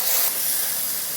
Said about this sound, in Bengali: এখন আদা টমেটোগুলো ভালো করে ভেজে নেব।